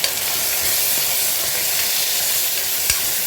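Onions and tomatoes sauté in a pan for a village-style mutton curry, giving a steady close sizzle and hiss, with a brief stirring clatter near the end.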